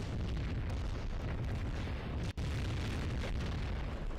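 Mortar explosions in the World in Conflict war game, heavy booming detonations rumbling one after another in a dense, loud barrage with deep low-end thunder and a brief cut near the middle.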